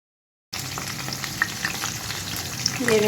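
Prawns for tikka biryani fry in a pan as they begin to brown, a close continuous sizzle starting abruptly after a brief silence, with occasional pops and spatter throughout.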